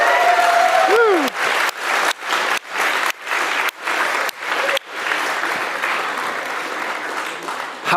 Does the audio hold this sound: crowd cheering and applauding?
yes